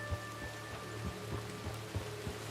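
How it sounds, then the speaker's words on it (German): Steady rain with gusting wind in the open-world game Red Dead Redemption 2, a continuous wash of drops with soft, repeating low thumps, fairly quiet and alone. "Es kommt Wind und Regen."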